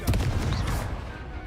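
Incendio fire spell cast in the Hogwarts Legacy video game: a short burst of roaring, crackling blast with a whoosh, loud and close, fading over about a second.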